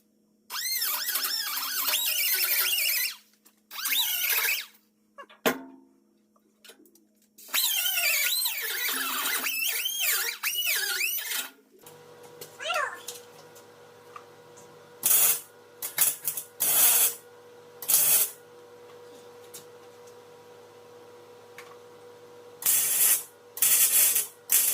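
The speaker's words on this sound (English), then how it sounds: "we're just going to do some quick zaps here and there to get it together until the MIG juice runs out" A MIG welder lays quick tack spots on an ATV trailer, each burst a harsh, crackling buzz lasting a second or several, separated by pauses, with longer runs early and short zaps later.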